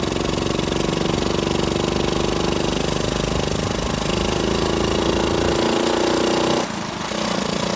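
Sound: Honda Chaly CF70 motorcycle engine running in gear

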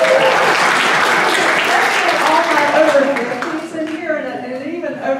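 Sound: audience applause

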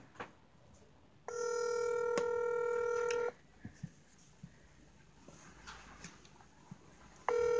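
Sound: telephone ringing

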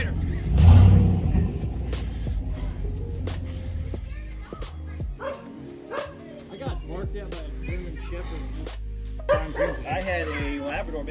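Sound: dogs barking

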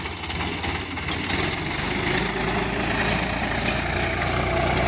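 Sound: Indofarm tractor engine pulling a Khodiyar plough

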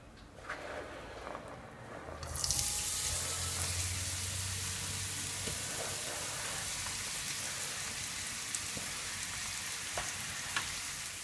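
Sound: onion frying in vegetable oil

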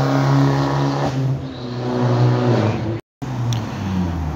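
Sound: Bravo car engine revving

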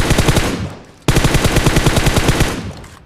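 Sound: M24 sniper rifle gunshots in PUBG Mobile video game

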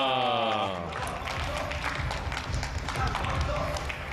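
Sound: audience applauding at a PBA billiards team league match

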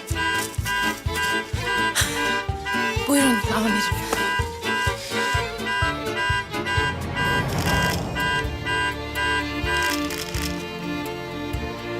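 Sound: car alarm

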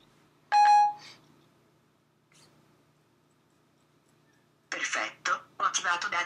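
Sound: iPhone Siri activation beep on iOS 7

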